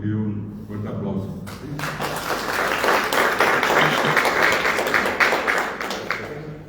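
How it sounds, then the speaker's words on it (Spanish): An audience at a writers' anniversary event breaks into strong applause, a dense clapping that builds after a spoken line and carries steadily to the end. "nuestra querida compañera Amanda Pedroso, para que pido un fuerte aplauso."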